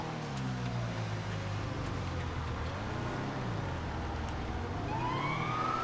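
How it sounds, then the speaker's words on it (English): A vanilla police car siren in the GTA FiveM video game wails during a Christmas race, a fairly faint rising and falling tone buried in engine and game noise. "Christmas race wee woos because it's a vanilla GTA car. Police car."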